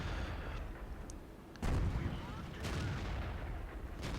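Artillery fire in the tank battle game World of Tanks, a heavy boom partway through followed by a second, softer blast, over a low rumbling battlefield bed.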